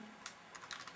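Computer keyboard typing, entering a branch instruction in a program: a few scattered key clicks, quiet and close, with no voice.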